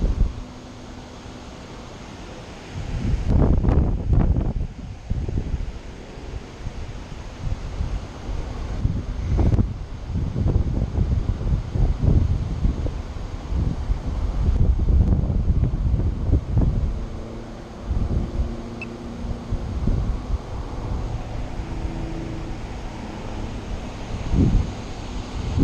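High winds at a building site batter the microphone in loud, irregular gusts and rumbling bursts over a steady background hiss, coming and going across the whole stretch.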